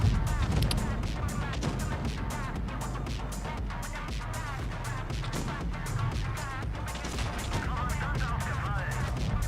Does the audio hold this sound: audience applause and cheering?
no